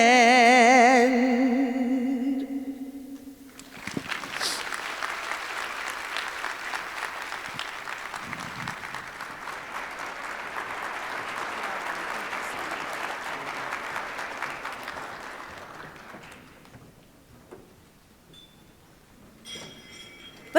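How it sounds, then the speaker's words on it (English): Sustained applause from a luncheon audience at an MLK business awards event, starting after a sung ending and filling the room steadily for about twelve seconds before fading out, with faint clinks of glassware. "Let's give LaShandra another big warm round of applause."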